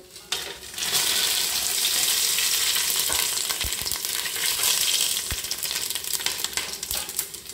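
Spices go into hot reddened oil for pulao, erupting into a loud, dense sizzle that stays steady and close, with occasional stirring knocks.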